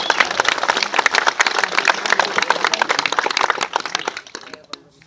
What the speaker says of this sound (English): Let's applaud these folks.